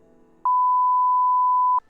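A single loud pure electronic beep holds steady for over a second, clean and alone after a faint background hum.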